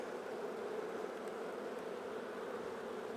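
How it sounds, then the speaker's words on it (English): Robber bees fly in a cloud above the top of a failing beehive, making a continuous, even buzzing hum at moderate loudness with no voices. "How do I know they're robber bees? Well, look, they're flying around."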